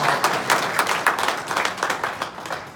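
A crowd at a rally for Lorain school teachers breaks into steady applause, dense overlapping claps with a few sharper peaks, heard close and filling the whole moment without talk.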